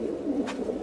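Pigeons kept caged at a new home loft, including a white army pigeon, coo in a low, steady murmur, close and continuous through the moment, with a brief brighter rustle midway and no talking.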